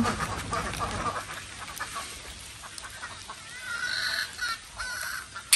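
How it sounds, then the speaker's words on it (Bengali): Ducks and chickens let loose in a rural Bangladeshi village yard, clucking and calling intermittently at moderate distance amid outdoor background noise on a rainy day. "এই যে আম্মা ওইদিকে আম্মার হাঁস মুরগি ছেড়ে দিল"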